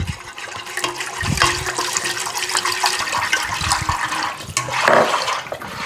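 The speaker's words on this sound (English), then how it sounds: "we're gonna add our milk back in while mixing" Milk pouring into a pot over low heat while being whisked, a continuous watery rush and slosh close by with small clinks, no talk.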